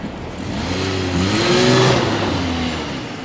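2013 Nissan Pathfinder AWD driving off-road uphill, its engine loud and close, revving up in a rising, swelling drone that peaks midway and eases slightly, with no talk over it.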